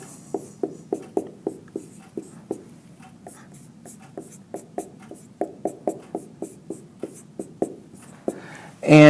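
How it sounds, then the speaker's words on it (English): Pen or chalk writing out physics equations in steady, close strokes, a quick series of short taps and scratches with brief pauses, ending in a sudden loud bump. "So let's write these conditions down."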